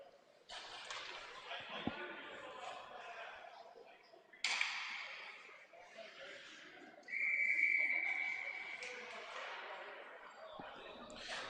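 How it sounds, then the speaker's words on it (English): Referee's whistle at a varsity high school ice hockey game, one sharp sustained blast cutting through arena crowd noise and play-by-play commentary. "play is whistled dead"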